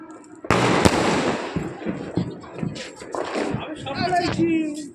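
Fireworks and firecrackers go off from a rooftop during Diwali celebrations, with a sharp nearby bang followed by a dense, continuous crackle of bursts and pops, while people talk over the noise.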